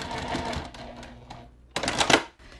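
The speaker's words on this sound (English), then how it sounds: "I'm going to just stitch right over the top of those original stitches and then do a back stitch" A sewing machine runs a short stretch of stitching over earlier stitches, then a brief back stitch, with a quick louder burst near the end.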